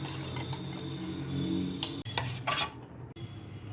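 Spoon stirring milk powder and cornflour into milk in a metal tiffin bowl, with scraping and clinking against the sides that break into sharper knocks near the end.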